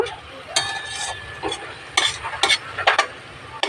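Jute greens fry in a pan while a utensil stirs them, producing a soft sizzle broken by several sharp scraping and clinking strokes at irregular intervals, close and moderately loud.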